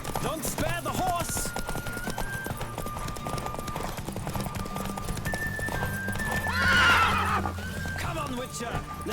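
A horse gallops with a rapid, continuous clip-clop of hooves in The Witcher 3, breaking into a loud neigh midway, all over in-game music and voices talking.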